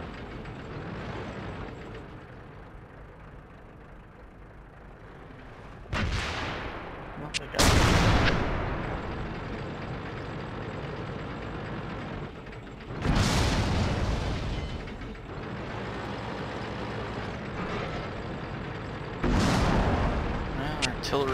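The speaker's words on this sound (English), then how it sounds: "Well, artillery saving us in the end." Artillery shells boom in the tank battle video game World of Tanks, several heavy blasts arriving at intervals over a constant engine drone, loud and close with long decaying rumbles.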